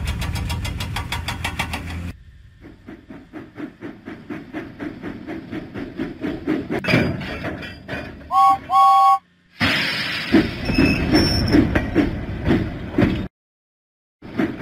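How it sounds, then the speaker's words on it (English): Steam engine James puffing along the tracks out of the docks in a Thomas and Friends video game; rapid rhythmic chuffs that steadily grow louder, a brief two-tone whistle, then a burst of hissing steam before stopping. "James pumped his pistons and puffed out of the docks"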